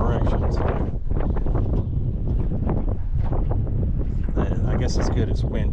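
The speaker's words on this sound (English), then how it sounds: "I guess it's good it's windy." Strong wind buffets the microphone in a continuous loud roar beside a saltwater creek, with rumbling noise throughout and no clear break.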